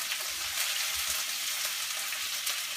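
Prawns and garlic fry in a hot pan for pad thai, giving a steady, close, crackling sizzle with fine popping that stays even throughout, with no talk.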